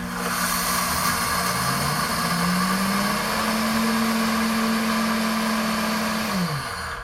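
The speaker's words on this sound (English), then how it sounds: "I'm just gonna turn the button until it gets to grind, and then I'm just gonna push this button here" A kitchen blender grinding coffee beans for cold brew, its motor whining loud and steady, then rising in pitch as it spins up and winding down sharply at the end.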